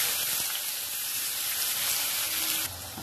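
Finely chopped onion dropped into hot oil with whole cinnamon, cardamom, black peppercorns, cloves and bay leaves for chicken kosha, giving a steady, close, bright sizzle that hisses evenly for the whole stretch.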